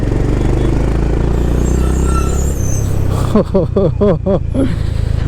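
A Honda Highness CB350 motorcycle engine pulls in second gear with a steady low rumble, close and loud, while a rider talks over it toward the end.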